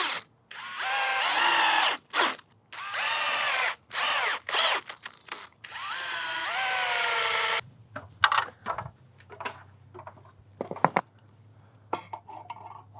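A power drill drives screws straight into metal to mount a solar light, sounding in several loud whirring bursts of a second or two each, then a few scattered clicks and clunks as the work stops.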